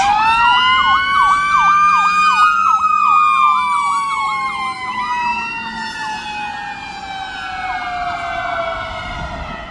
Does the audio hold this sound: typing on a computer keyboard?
no